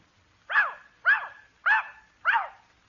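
Rover the dog gives four sharp, evenly spaced barks, close and loud, each a quick bright yelp with a short tail, with quiet gaps between.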